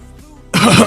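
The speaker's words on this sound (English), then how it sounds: "got close to the mic to cough" A single loud cough right up against the microphone during a podcast recording, bursting in suddenly after a quiet stretch of background room tone.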